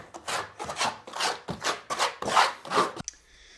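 A trowel spreading thinset into the sublayer for a heated bathroom floor, about seven rhythmic scraping strokes in quick succession, close and distinct, each a gritty rasping swipe before a pause at the end.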